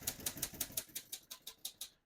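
Crisp, evenly spaced keystrokes from a 1937 Royal De Luxe portable typewriter, about a dozen sharp clacks at a steady rhythm, close and fairly quiet, with no voices.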